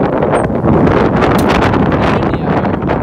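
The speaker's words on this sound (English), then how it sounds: "windy out here. It's pushed me over almost a few times" Strong wind blows across an open farm field, buffeting the microphone in loud, continuous roaring gusts with no pauses and no talk.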